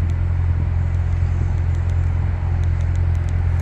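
A 2021 Chevrolet Corvette Stingray 2LT idles with a steady low rumble, holding an even, close drone with no revving and no voices.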